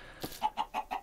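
A Minecraft chicken clucks in four or five quick, clipped bursts at an even pace, close and clear against a quiet background.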